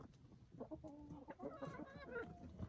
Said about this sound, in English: These chickens just absolutely go bonkers over this.